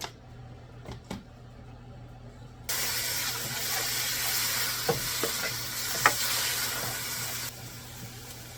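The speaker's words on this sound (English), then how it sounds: "we are going to start this with a little bit of oil and cook down some of the onion" Onion sizzling in oil in a pan while meal prepping, a faint steady hiss that picks up partway through, with a few soft clicks and taps on top and no speech.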